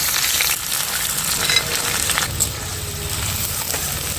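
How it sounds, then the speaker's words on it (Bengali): Finely chopped onions fry in hot oil, giving a steady, loud, close sizzle that crackles continuously with no pauses. "এবার তেলের উপরে পেঁয়াজটা দিয়ে দেবো।"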